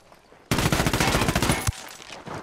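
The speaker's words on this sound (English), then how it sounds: "Where is he shooting from?" In Ghost Recon Wildlands, a loud, close burst of automatic gunfire with rapid evenly spaced shots runs for about a second, then cuts off, followed by a fainter trailing echo.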